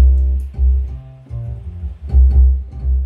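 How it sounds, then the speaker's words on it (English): An electronic keyboard plays a deep, loud bass line in pulsing notes with lighter tones above, close and alone with no talking, during a piano bar's sound check. "the sound you're hearing there is actually from this keyboard over here"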